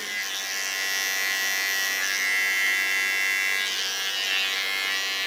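An electric hair clipper buzzes steadily up close, with no pause, while trimming around the sideburn and rounding the edge above the ear during a short pixie haircut.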